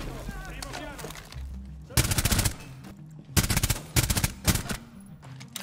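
Several sharp bursts of automatic gunfire from a favourite weapon in Rainbow Six Siege ring out loud and close, separated by short pauses, with game sounds and a voice underneath at the start.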